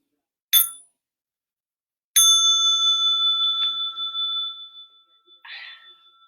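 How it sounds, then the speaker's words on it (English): A small meditation bell rings twice, first a brief strike and then a clear ring that lingers and fades, followed by a faint soft clink, in an otherwise quiet room. "Small bell for stretching and massage."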